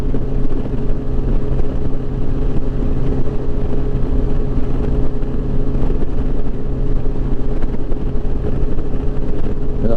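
A 2007 Yamaha FJR 1300 sport-touring motorcycle cruising on a ride gives a loud, steady engine drone mixed with heavy wind rush, recorded close and continuous.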